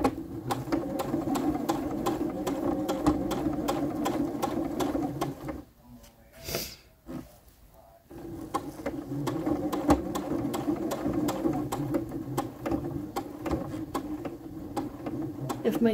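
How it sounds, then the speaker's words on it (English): A sewing machine stitches around the edge of a girl's dress in a steady, rapid run, pausing for a couple of seconds partway through before starting again, close and fairly loud. "I'm probably gonna go ahead and stitch around this edge again just to be sure."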